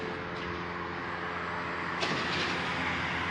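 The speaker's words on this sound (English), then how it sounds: "an amplified sound of a train" A steady low rumble of a train rolling past, continuous and fairly loud, with a faint clank partway through; no voices.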